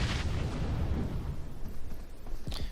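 Grenade blasts in a battle royale game match, a low rumbling boom that rolls on continuously with a sharper burst near the end, heard alone without talk.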